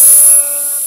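A power drill with a number 30 bit whines loudly for under half a second, boring into a motorcycle hard bag latch, then drops to a quieter steady hum.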